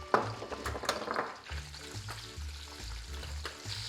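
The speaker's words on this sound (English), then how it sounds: "Add a little bit of salt to the oil and get your squid in there." Squid sizzling and crackling in hot salted olive oil, a steady close frying hiss with a few louder pops and scraping stirs, and no one speaking.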